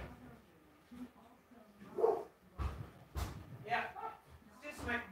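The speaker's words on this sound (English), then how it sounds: "I don't know what you guys are barking for." Two dogs bark in short bursts at moderate distance at a neighbor, mixed with a person talking and some whimpering yips between barks.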